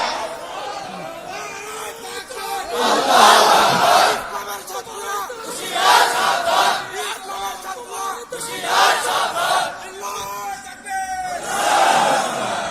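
A large crowd at a religious gathering roars the takbir chant in loud, repeated waves of shouting, each burst rising and falling in a steady rhythm.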